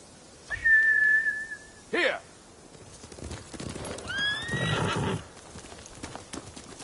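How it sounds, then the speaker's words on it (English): Video game horses (samurai mounts, Ghost of Tsushima): a horse whinnies loudly, followed by a second shrill neigh and a burst of clopping hooves nearby, with a sharp whistle-like cry in between. "Bastards scared off the horses."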